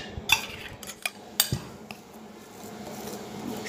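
A spoon clinks and scrapes against a bowl as fish marinade is mixed into dry masala, giving a few sharp taps near the start, then quieter rubbing and stirring.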